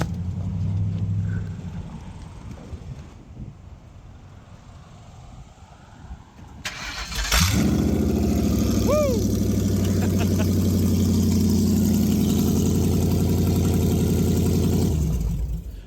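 A Ford Crown Victoria dirt track race car with exhaust but no mufflers cranks and fires up, settling into a loud, rough, steady idle after a quieter stretch with faint background noise.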